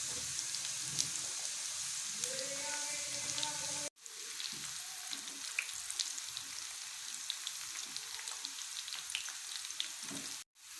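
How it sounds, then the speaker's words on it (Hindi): Onion, ginger, garlic and green chillies sizzle steadily in hot oil as a tadka for sarson ka saag, a dense continuous frying hiss with one brief cut partway through, no voices. "तड़का हमारा अच्छे से तैयार हो गया है।"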